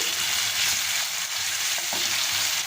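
Hilsa fish pieces sizzle steadily in hot oil in a pan, a dense continuous frying hiss with occasional soft scrapes as the pieces are turned, with no talking.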